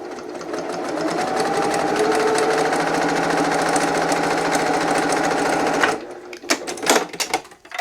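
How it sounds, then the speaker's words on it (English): A sewing machine runs steadily for about six seconds, top stitching along a fold of a fabric bookmark with a fast, even mechanical whir. It then stops, leaving a few scattered clicks and taps. "now we're going to take this to our machine and top stitch along this fold that we just created."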